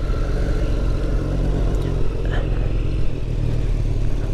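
A motorcycle engine runs loud and close right after being started, a steady rumbling idle with a continuous low mechanical chug and no voices over it.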